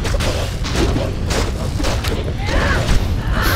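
Meteor spell explosions in a Diablo 2 co-op game on Hell difficulty, heard as repeated heavy booms and crashing impacts inside a dense, continuous wash of game noise, with faint voices in the background.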